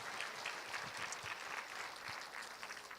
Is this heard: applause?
yes